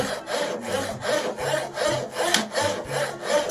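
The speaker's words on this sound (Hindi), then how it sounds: "ड्रिल से दरवाजे में भी सुराख करना था" A hand tool works into a wooden door in repeated rasping strokes, about a dozen evenly spaced rubbing passes, loud and close with no voices.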